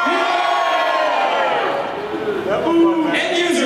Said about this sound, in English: Developers,